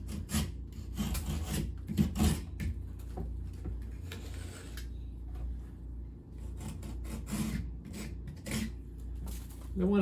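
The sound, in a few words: utility knife scraping loose material from drywall repair edges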